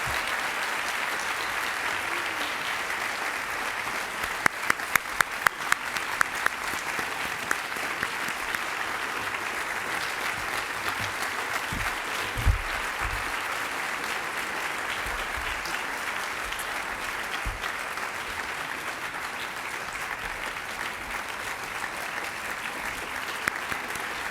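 An audience at the New York City Literary Honors gives sustained applause for the 2012 honorees, a long, even roll of clapping with a few sharper close claps standing out.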